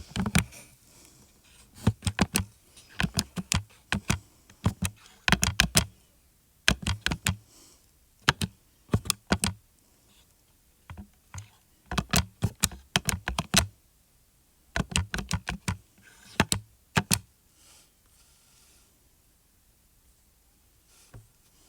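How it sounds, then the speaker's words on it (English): Calculator buttons tapped for a pre-algebra problem, heard as close, crisp clicks in quick bursts separated by short pauses, with no talking. "if you type this one in your calculator just like it looks"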